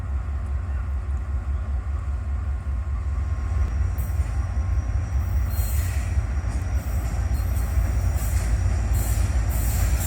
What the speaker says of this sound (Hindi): बहुत ही स्लो रफ्तार से आ रही है ट्रेन